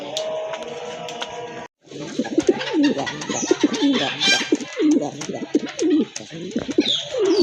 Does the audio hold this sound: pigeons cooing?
yes